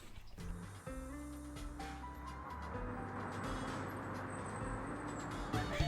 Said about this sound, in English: and the trucks in Sephirite Junkyard and Sylvan City.